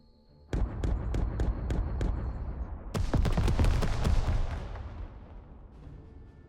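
A Panzer II tank firing in the Second Front war game, a rapid string of sharp autocannon shots, then a louder burst of heavy rounds and impacts fading into a rumbling tail.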